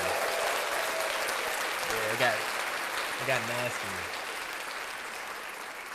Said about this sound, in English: Ooh, let's clap that.